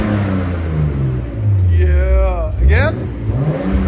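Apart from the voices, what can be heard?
1989 Nissan Skyline Type-M engine revving, stock exhaust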